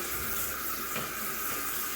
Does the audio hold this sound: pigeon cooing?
no